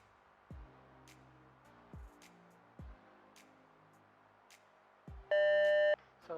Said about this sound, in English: So this is the starting beep, so you start running.